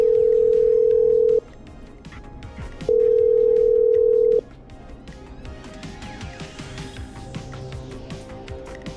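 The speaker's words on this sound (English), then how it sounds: "I'm dialing." A telephone call is placed in the video game Killer Frequency. Two long, steady electronic tones sound, separated by a pause, and are followed by quieter line noise and faint background sounds.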